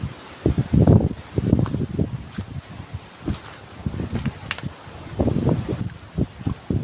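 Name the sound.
strong wind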